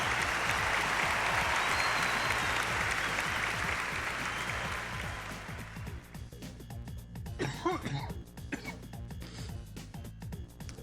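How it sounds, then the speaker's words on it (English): An audience claps in a steady, dense burst that fills the first half, then thins out into scattered claps and a few vocal sounds near the end. "Let's get a big round of applause."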